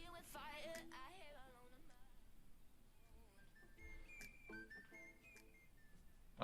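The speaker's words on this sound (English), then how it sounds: "I like the whistle." A whistled melody runs through a produced pop song entry from a children's song contest, thin bright tones rising and falling over a backing track with layered effects, moderately loud and steady throughout.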